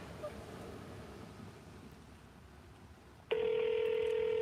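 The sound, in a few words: telephone dialing and ringing on a call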